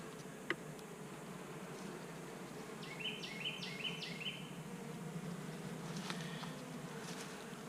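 Honey bees in a nuc hive give a faint, steady, close buzz that is low in level throughout, with a few short high chirps in the background.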